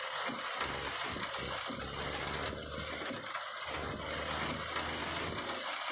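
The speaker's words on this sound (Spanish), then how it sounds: "Ya empezó nuevamente a llover." Rain falling at night in the trucking game Grand Truck Simulator 2 makes a steady, even hiss, with soft low thumps recurring in the background.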